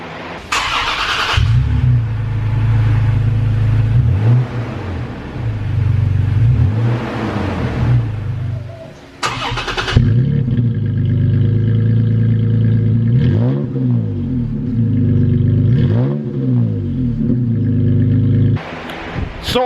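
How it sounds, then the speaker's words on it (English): A Toyota Tacoma fitted with an MBRP exhaust cranks and fires up, then settles into a loud, deep idle broken by several sharp revs, each rising and falling again, with no talking over it. "I put the MBRP exhaust on, and it was cool. I liked the startup."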